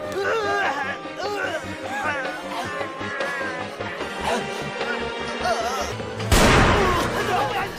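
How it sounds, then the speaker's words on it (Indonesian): Speech with steady rhythmic music underneath, then a sudden loud grenade explosion in the film New Police Story near the end that fills the whole range before fading. "bom itu pun meledak"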